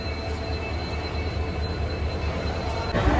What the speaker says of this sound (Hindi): ये ट्रेन है नाहरलगुन टू तिनसुकिया